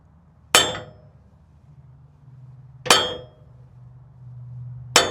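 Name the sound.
hammering a part on a Toyota Land Cruiser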